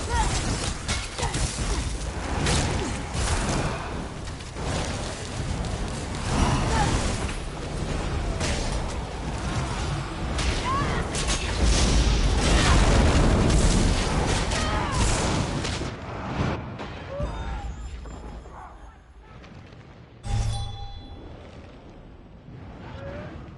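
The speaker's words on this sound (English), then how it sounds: "My exploding skeleton will explode in your heart." An exploding skeleton summon in Elder Scrolls Online blows up amid a dense, continuous roar of booming blasts and battle effects, loud throughout and easing toward the end, with a voice talking over the din.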